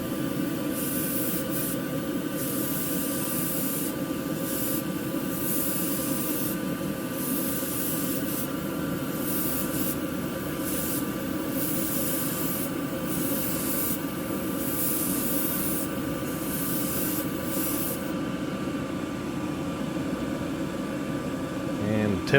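An airbrush sprays paint onto an M100 model's bumpers and tailgate with a steady, continuous close hiss that runs unbroken with a constant hum beneath, no talking over it.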